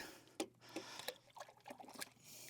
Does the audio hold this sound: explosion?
no